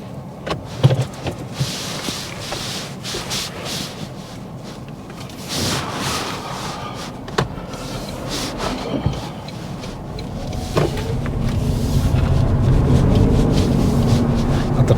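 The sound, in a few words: car driving off during a driving test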